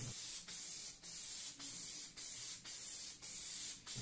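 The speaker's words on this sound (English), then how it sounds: "Spray down the seat." Repeated bursts of aerosol spray glue onto foam while reupholstering a car seat, about seven short hissing blasts in a steady rhythm, close to the microphone with no talking.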